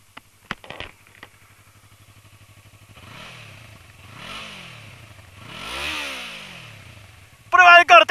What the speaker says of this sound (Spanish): ¿Cómo suena la Krapovich?